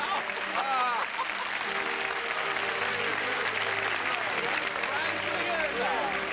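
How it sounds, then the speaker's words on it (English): A 1950s television studio audience applauds on a live tribute show, steady even clapping throughout with some faint tonal sounds mixed underneath. "You wonder where that applause is coming from?"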